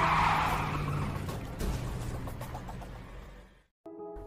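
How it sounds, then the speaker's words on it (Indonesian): A car engine roars and pulls away, its noise steadily fading into the distance before a brief moment of silence and a tonal sound. "mereka langsung menancap gas keluar dari kota tersebut"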